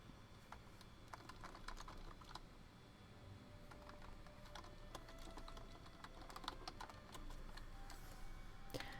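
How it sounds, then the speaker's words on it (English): Quiet, irregular clicking of a computer keyboard continues throughout, with bursts of keystrokes and short pauses, close but soft against faint room noise. "I would tell you why I'm typing,"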